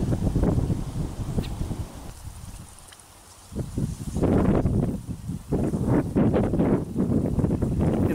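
Strong wind buffets an outdoor fishing swim on a tench-fishing bank, roaring in loud, uneven gusts that briefly ease midway before surging again close to the microphone.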